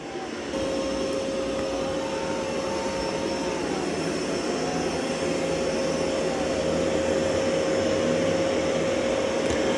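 A Dreame L40 Gen 2 robot vacuum cleaner runs steadily nearby, its motor a constant loud whine with a sustained high tone and airy suction roar that holds even throughout.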